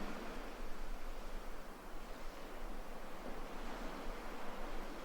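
Ocean waves and surf at dawn in Bali wash in a soft, continuous roar, faint and even with gentle swells and no voices.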